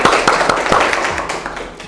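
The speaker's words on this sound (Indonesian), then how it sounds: "Tepuk tangan untuk kita semua." Loud, close clapping from a small group, a quick burst of sharp hand claps that gradually thins out.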